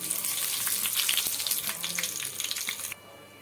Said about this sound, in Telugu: ఆయిల్ హీట్ అయ్యాక జీలకర్ర ఆవాలు వేసుకోండి అందులోనే రెండు మిరపకాయలు వేసుకోండి కొద్దిగా కరివేపాకు వేసుకోండి